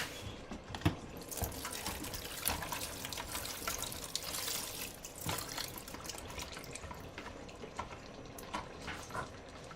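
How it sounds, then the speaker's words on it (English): Unripe rodo peppers rinsed under a running tap at a sink for Nigerian ofada ayamase stew, with soft continuous water flow and irregular splashes and drips throughout, fairly quiet. "Then we rinse our unripe rodo."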